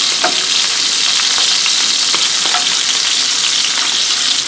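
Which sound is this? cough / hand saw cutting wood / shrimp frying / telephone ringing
shrimp frying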